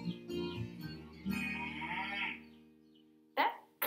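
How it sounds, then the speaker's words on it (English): A cow moos in a long, low, drawn-out call during the coda of a children's song about hunting the cows, followed by brief sharp sounds near the end. "That coda had a cow in it."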